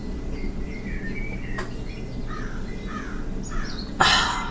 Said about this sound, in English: There's a crow crowing.